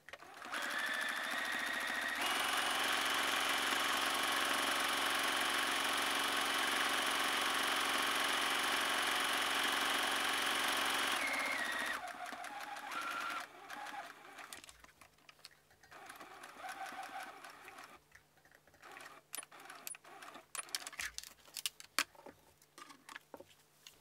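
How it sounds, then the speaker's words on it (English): A sewing machine runs a steady straight stitch with a brief back stitch while sewing fabric strips for a spooky apron, a continuous close motor whir lasting about ten seconds, then quieter handling noises. "since we're doing a straight stitch, make sure definitely do back stitch just to kind of help lock in those initial stitches."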